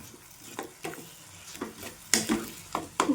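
Cooked potatoes are stirred into tomato frying in oil in a pan, giving soft sizzling under a series of sharp spoon scrapes and knocks at irregular intervals, close by.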